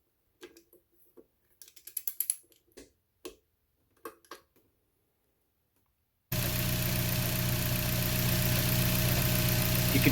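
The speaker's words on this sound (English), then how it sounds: "there's no vacuum leaks, no RPM idling issues. The engine works like how it should." A 2004-2008 Acura TSX with a K24A2 four-cylinder engine idles evenly after its intake manifold gaskets were replaced, a steady close hum starting abruptly after several seconds of scattered clicks and ratcheting tool sounds.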